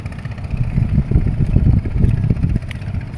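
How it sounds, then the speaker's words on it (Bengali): Small fishing trawlers head home near the shore, their engines giving a steady, throbbing low rumble that stays fairly loud and unbroken, with no voices. "মাছ ধরার ট্রলারগুলা মাছ ধরে এখন বাড়ি ফিরতেছে"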